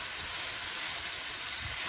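Apples and raisins fry in a pan over medium heat, giving a steady, soft sizzle with a constant hiss and no talking throughout.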